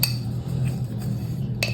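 A teaspoon scoops icing sugar with a brief metallic clink at the start and another near the end, soft scraping between, close and clear.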